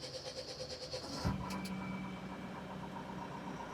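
A JCB 3DX Stage 5 backhoe loader's diesel engine cranks and catches with a sudden start, then settles into a steady, fairly quiet idle hum nearby.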